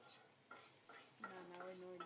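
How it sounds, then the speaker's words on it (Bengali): Shrimp frying and being stirred in a pan for bhorta, a soft sizzle with a few scraping stirs and some clinking utensil tones. "ভর্তা বাটার জন্য চিংড়ি মাছগুলো লাল লাল করে ভেজে নিচ্ছে"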